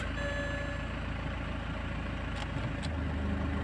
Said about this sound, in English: So I'm running the engine, and I've gone through the gears